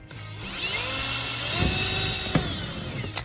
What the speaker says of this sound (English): you're gonna match drill this hole into the vehicle